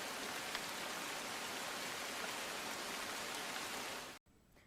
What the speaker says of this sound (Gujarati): 3 કલાકમાં 3 ઇંચ વરસાદ ખાબક્યો